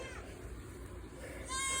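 Goats graze on grass outdoors, with steady low background noise, then a clear, sustained bleat rising near the end of the clip.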